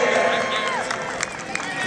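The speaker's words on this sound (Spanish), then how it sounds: "Un fuerte aplauso para Andrés Gil." Crowd applause and cheering for Andrés Gil at an awards ceremony of the Copa Heineken 2015 final, a steady wash of clapping with scattered louder claps, brief and fairly loud.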